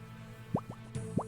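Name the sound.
video game sword heating sound effect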